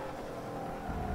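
A Nissan GT-R in the Forza racing game accelerates at full throttle on a track, a faint, steady engine howl that rises slightly toward the end.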